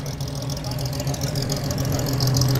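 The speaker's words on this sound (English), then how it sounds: "Another pre-selector gearbox Riley here." A vintage Riley car with a pre-selector gearbox idles steadily at a hillclimb meeting, its low engine rumble continuous and fairly close, with a faint background murmur.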